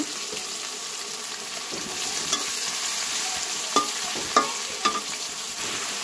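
Onions, green chilies and tomato fry in a pan with a bright, steady sizzle, while a utensil stirs and taps against the pan a few times near the end.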